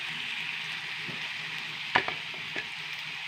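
Anchovy fish frying in a pan give off a steady close sizzle, broken by a few sharp clicks and a scrape near the end, with no voices.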